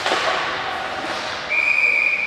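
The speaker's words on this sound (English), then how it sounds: "Low angle shot from the side of the net that Bohan's able to hop on and cover for a whistle." Referee's whistle at a varsity ice hockey game, one sharp, sustained blast cutting over rink noise and the crowd, after a muffled thud.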